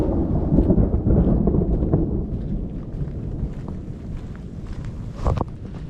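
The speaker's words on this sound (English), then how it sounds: "there was a flash, and then there was thunder" Thunder rumbles heavily during rain on a Camino Primitivo hike, a deep rolling boom that fades over several seconds beneath steady rainfall and light wind buffeting.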